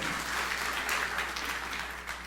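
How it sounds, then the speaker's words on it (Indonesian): A large congregation at a church service claps in dense, sustained applause that holds steady and eases off slightly at the end. "Tepuk tangan yang meriah untuk kemuliaan Tuhan."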